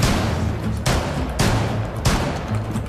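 Gunfire in the tactical shooter Rainbow Six Siege, several sharp loud shots spaced roughly half a second apart over a steady noisy background, no voices.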